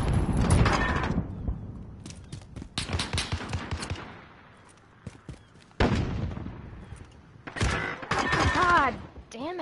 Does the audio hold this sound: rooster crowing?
no